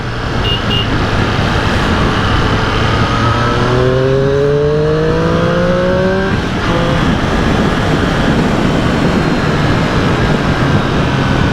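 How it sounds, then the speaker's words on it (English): Triumph superbikes roar past amid steady loud road and wind rumble, their engines rising and then dropping in pitch as they sweep by in quick succession. "Because you love your bike and you love the sound of a superbike."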